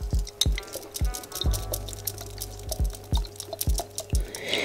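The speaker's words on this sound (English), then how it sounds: "I'm gonna add 2 tablespoons of red wine vinegar" A thin trickle of red wine vinegar pours slowly from a bottle, coming out as a near, steady series of drips and splashes, about a dozen in a few seconds, without speech.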